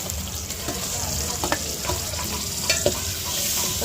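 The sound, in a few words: frying ginger garlic paste in a pan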